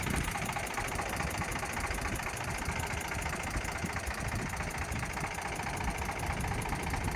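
Steady, close diesel rumble of an Eicher 368 tractor with a Ricardo engine idling, an even low throb with no change in pace and no voices.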